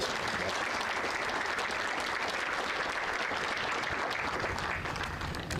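A crowd gives sustained applause at an Army change of responsibility ceremony for the 1st Infantry Division at Fort Riley. Dense, even clapping from many hands carries on throughout and eases slightly at the very end.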